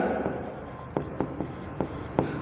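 Chalk or marker strokes tap and scrape on a classroom board during an accounts lesson, a series of short sharp writing marks over a steady background, with a teacher's voice talking alongside.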